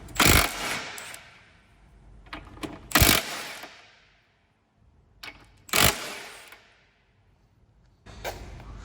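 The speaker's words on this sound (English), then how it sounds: "we're just going to undo the three nuts holding the ball joint on there" Socket wrench work on the three 16mm nuts holding a front ball joint on a VW Polo, with sharp bursts of ratcheting and metallic clicks separated by short pauses, close and loud.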